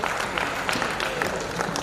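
A hall full of spectators clapping at a Hyderabadi stage show, continuous broadband patter of hands at a steady level, with faint crowd noise mixed in.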